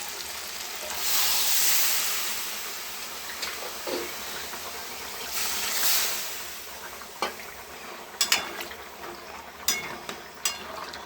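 Water poured into a pan of fried curry, setting off a loud hissing sizzle that swells and eases, followed by sharp clatters of stirring, with no talking.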